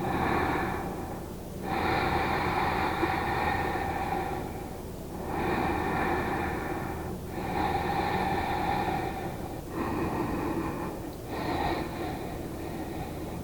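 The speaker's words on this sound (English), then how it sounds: "And breathe." Slow deep breaths during a hip-opening yoga session, long airy inhales and exhales repeating in steady cycles about every three seconds, close and fairly loud with no talking.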